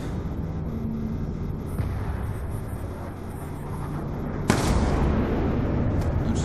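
Gunfire and explosive blasts in the Call of Duty Black Ops II video game: a dense, continuous rumbling barrage with a sharp loud burst midway, followed by heavier sustained roar.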